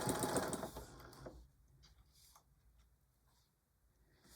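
A sewing machine stitches a potholder with a pocket in a close, fast whirring burst of about a second and a half, then falls to faint handling sounds.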